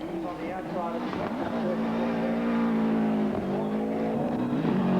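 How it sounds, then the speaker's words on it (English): A Subaru Impreza rally car at the start of a stage at the 1996 Rally Australia, its engine revving hard with a rising, steady roar while someone narrates over it. "Starting alongside Sainz was the Subaru Impreza of Swede Kenneth Eriksson."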